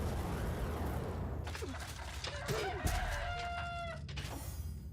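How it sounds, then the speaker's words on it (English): Mechanical roosters crow in the video game Divinity: Original Sin, a drawn-out cock-a-doodle-doo with clucks and a metallic edge, heard over a constant background rumble from the game. "Mecha roosters."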